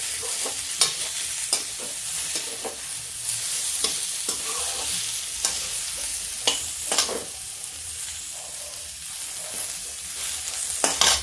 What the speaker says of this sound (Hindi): अब इसको थोड़ा गैस तेज करते हैं और इसको थोड़ा भून लेते हैं